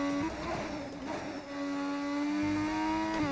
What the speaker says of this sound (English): Love the engine sound.